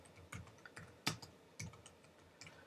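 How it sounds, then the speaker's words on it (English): Soft, quiet typing on a Mac computer keyboard, a loose irregular run of light key clicks with one sharper tap in the middle, close by and alone without talk. "just type in the name of the artist, then the track title"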